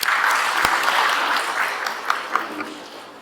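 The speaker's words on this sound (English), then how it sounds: "with a round of applause" Audience applause welcoming the Swami Sarvapriyananda Maharaj to a seminar on self-knowledge, a steady wash of many clapping hands that slowly fades over about three seconds, with a few louder claps near the end.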